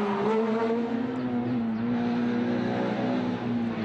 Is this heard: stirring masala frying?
no